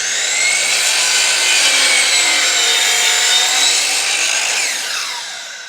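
Saw slicing through a tall wooden baseboard in a bevel cut, a loud, continuous high whine with a rasping edge lasting several seconds and easing down as the cut finishes.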